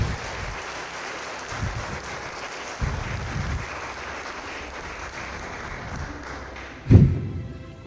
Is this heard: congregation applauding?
yes